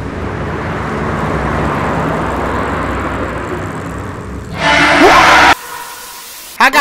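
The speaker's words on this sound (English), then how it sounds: "Here's that car." A car in the horror game Burger & Frights gives off a steady low engine rumble, rising into a louder, brighter burst before cutting off abruptly into near silence.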